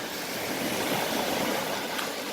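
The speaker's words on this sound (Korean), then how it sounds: "이 파도 소리를 들으면서" Waves wash steadily against the shore of the Sea of Galilee on an overcast day after rain, a continuous close rushing hiss with no voices.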